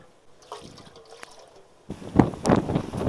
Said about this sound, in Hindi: इसमें हम थोड़ा पानी डालेंगे।